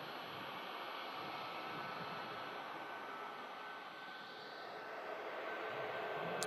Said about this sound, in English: we've got a Ryanair from Venice as well, which is next to land with us here at Manchester